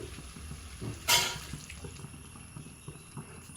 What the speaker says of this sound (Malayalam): ഇനി നമുക്ക് ഇതിലേക്ക് കുറച്ച് വെള്ളം തെളിച്ച് കൊടുക്കാം